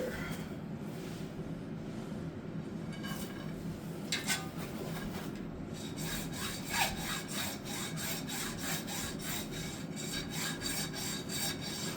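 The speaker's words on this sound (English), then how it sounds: "So right now we are cutting the anode rod to size." A water heater anode rod being cut to size with a hand saw: steady, close back-and-forth rasping strokes continue for the whole stretch, growing more regular toward the end, with no talking.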